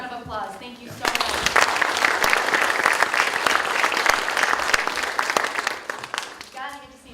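Audience applause at a 2018 showcase event, a sustained burst of dense clapping lasting several seconds, with voices speaking just before it starts and again as it fades.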